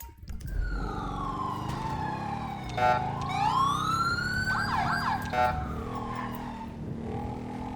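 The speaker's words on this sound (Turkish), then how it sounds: "Ambulans da geldi yaralara baksınlar" A wailing ambulance siren in GTA V rises and falls over a steady engine rumble, loud and near, with a sharp tire-screech-like sweep midway.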